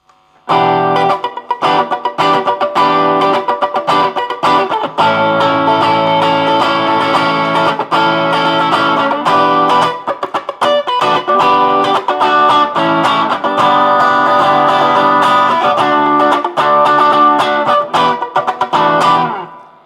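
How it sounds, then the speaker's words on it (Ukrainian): A Japanese Fujigen Telecaster-style electric guitar plays a continuous stream of bright, twangy chords and riffs, loud and close, with an effected, slightly distorted tone and no talking. "прекрасний японський телекастер, який звучить так, як має звучати Fender телекастер."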